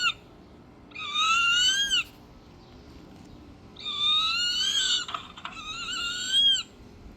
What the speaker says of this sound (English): That's the sound of a hog screeching.